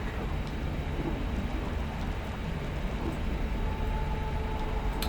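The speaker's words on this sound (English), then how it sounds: "I got the raining blood spell. From a lacerated sky." Raining blood spell in Divinity Original Sin II, a steady, dense downpour hiss with low rumbling beneath, even and continuous for several seconds with no voices.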